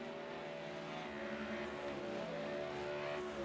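Ford Mustang GT3 race cars dueling for position in a sim racing game at Shell V Power Motorsport Park, their engines droning steadily and continuously at moderate distance with no voices over them.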